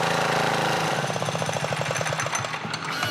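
A diesel engine powers a tracked all-terrain mountain board, a loud, steady rapid chugging rhythm that starts dense then settles into evenly spaced knocks, close up with no talking.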